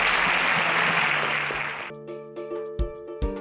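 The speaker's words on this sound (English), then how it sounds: "Can we give him a round of applause as he exits" Quiz-show studio audience applauding a departing contestant, a dense burst of clapping that fades as bright theme music with punchy hits takes over.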